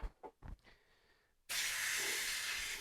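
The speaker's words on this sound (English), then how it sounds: "Let out the air on my sprayer." Air is released from a pressure sprayer in a sudden, loud, steady hiss that starts after a few soft knocks and handling noises and keeps going to the end.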